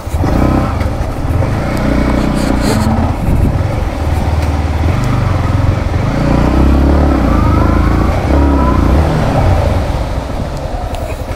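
A 2022 Yamaha MT15 V2 motorcycle revs and pulls away hard on a test ride, its engine loud and close with a continuous throbbing roar that rises and holds for about eleven seconds.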